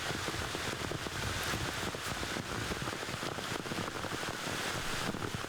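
Steady rain falls on an open disc golf course at Dunbar during the Scottish Open, a constant, even hiss of drops without breaks or voices.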